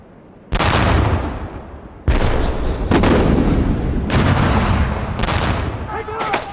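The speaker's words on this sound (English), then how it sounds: "British artillery began pounding the German defences" British artillery bombarding German defences on the Western Front: loud, heavy booms land in repeated waves over a continuous dense rumble of gunfire.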